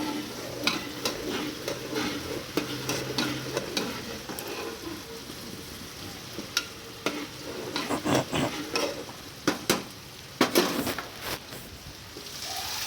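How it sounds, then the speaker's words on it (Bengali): Salted dal with turmeric being stirred in a pot, soft bubbling under a series of sharp clicks and scrapes from a spoon against the metal rim, irregular and close. "নুনটা লবণটা আগে থেকেই আমি দিয়ে রেখেছিলাম ডালের মধ্যে এবার একটু নেড়ে নিচ্ছি"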